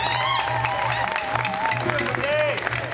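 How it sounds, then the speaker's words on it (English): Crowd at an outdoor city-wide Juneteenth celebration applauds and cheers, many hands clapping under continuous loud voices and a whistling, warbling tone, with a pulsing low hum throughout. "Now let's give the man upstairs a wonderful round of applause for this wonderful"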